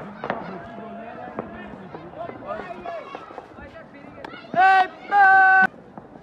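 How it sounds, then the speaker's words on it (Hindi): Fireworks and gunfire crack and pop at dusk during the Basant kite festival in Shakrial, Rawalpindi, with sharp repeated bangs and sustained tonal bursts over crowd noise and voices nearby. "शाम हो गई और सारी फायरिंग अभी स्टार्ट हो गई है"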